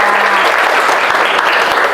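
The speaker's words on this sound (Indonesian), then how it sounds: "Tepuk tangan untuk semua dulu." Burst of applause from a classroom of students during an Indonesian-language lesson, dense and close, clapping continuously for the whole short stretch.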